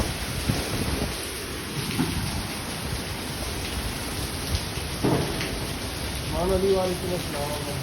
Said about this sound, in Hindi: देखो दोस्तों ये बारिश का तूफान चल रहा है